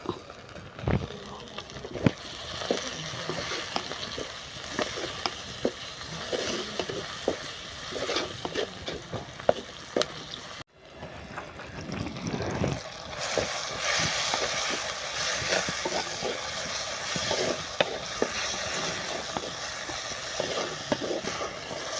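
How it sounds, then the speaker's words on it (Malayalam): Onions, tomatoes, green chili, ginger and curry leaves sauté in a pan for a rohu fish curry, giving a steady close sizzle with scraping stir strokes and clicks throughout, with a brief dropout midway. "തക്കാളിയും സവാളയും പച്ചമുളകും ഇഞ്ചിയും വേപ്പിലയൊക്കെ നന്നായിട്ട് വഴന്നതിന് ചേർത്ത് നമുക്ക് പൊടികളൊക്കെ ചേർത്ത് കൊടുക്കാം"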